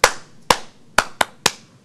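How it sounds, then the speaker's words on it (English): Five sharp hand claps ring out alone at an irregular pace, loud and close in a room, each with a short reverberant tail. "they do a clap like that, and everybody starts doing it till they're all clapping"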